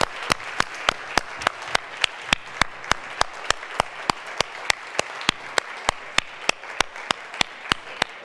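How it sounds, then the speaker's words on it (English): Audience at an animal-welfare conference in Belgium claps steadily for about eight seconds, a dense even wash of hand claps with sharp regular accents, loud and close with no voices over it. "Give them a warm applause."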